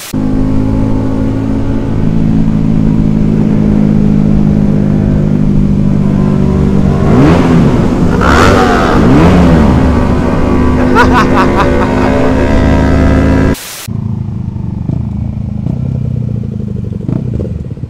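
A motorcycle engine revs hard and close for around thirteen seconds, a loud roar with rising throttle bursts, before cutting abruptly to a quieter idle-like rumble.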